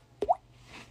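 A voice imitates a water droplet with the mouth, making two quick, hollow plops close to the microphone that rise in pitch, followed by quiet.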